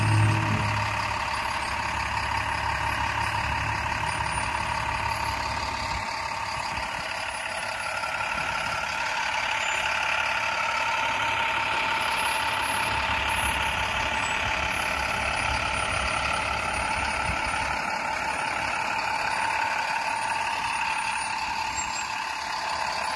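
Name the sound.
tractor trailer truck reversing with reversing beeps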